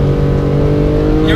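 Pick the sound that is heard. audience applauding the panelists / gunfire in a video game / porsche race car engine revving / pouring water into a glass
porsche race car engine revving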